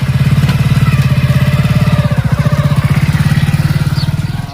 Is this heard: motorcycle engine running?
yes